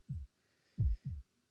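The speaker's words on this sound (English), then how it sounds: "my heartbeat is loud. It's pounding like mad." Heartbeat sound effect from a Fate/Stay Night visual novel game: a low, thudding lub-dub beat, two quick pulses after a single one, dull and close with no voices.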